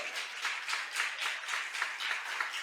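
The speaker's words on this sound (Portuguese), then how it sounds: "Você pode aplaudir o nome do Senhor?" Steady applause from a church congregation during a Portuguese-language sermon, a dense wash of many hands clapping at a moderate distance, continuing evenly without voices.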